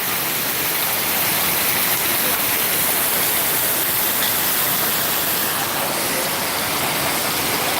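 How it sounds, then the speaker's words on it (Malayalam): Heavy rain pours down in Hyderabad as a dense, even, steady roar, loud and close, with no voices. "ഒരു രക്ഷയില്ലാത്ത മഴയാണ്"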